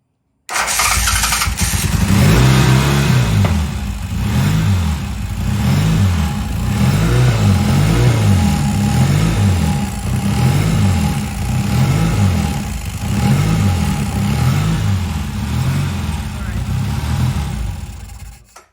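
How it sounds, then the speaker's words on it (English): A motorcycle with freshly balanced carburetors fires up for its first start and settles into a loud, close, steady idle. Its pulsing exhaust rhythm continues unbroken for the rest of the run. "go ahead and start the bike"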